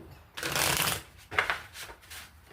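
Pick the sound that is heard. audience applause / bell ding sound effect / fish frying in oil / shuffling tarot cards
shuffling tarot cards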